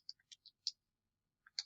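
Soft plastic calculator keys being pressed one at a time while entering a list of data points, a few sparse light clicks at an uneven pace, close and quiet.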